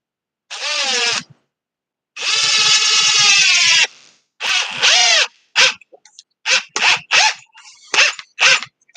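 A power drill struggling against a slippery, low-friction material: several loud whining bursts of the motor that start long and then break into short, stuttering spurts with brief pauses between.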